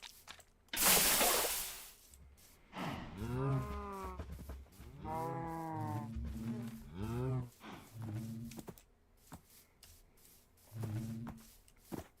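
A burst of noise followed by several long, drawn-out Minecraft cow moos in a row, loud and close, with a synthetic game-like quality.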